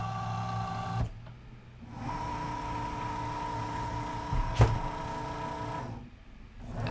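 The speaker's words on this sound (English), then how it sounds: "Go ahead and load the mat, and it just automatically grabs it." A Cricut Joy Xtra cutting machine loads a mat with a quiet motor whir. There are soft mechanical clicks, pauses between short running bursts, and one sharp tap.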